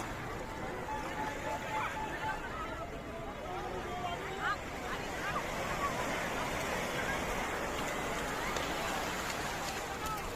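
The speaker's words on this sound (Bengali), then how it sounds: "এই হচ্ছে সমুদ্র" Sea waves at Corbyn's Cove beach in the Andaman Islands, a continuous rolling surf wash with wind buffeting the microphone and faint voices and activity in the background.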